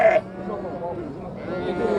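At a sheep market in Nookat, a lamb gives a short bleat up close at the start. A voice then keeps talking over low market noise.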